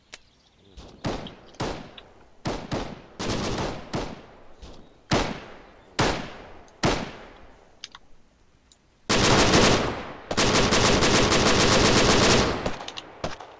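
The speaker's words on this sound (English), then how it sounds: "Machine gunner, hold fire." Automatic machine gun fire in the military shooter ARMA 3: a string of short, sharp bursts at close range, followed by a long sustained burst and another extended stretch of rapid firing.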